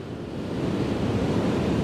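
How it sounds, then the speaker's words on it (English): Ocean surf rolls in at St Mike's Beach, a loud steady wash of breaking waves with wind buffeting the microphone and no voices. "Nice waves here today, I must say."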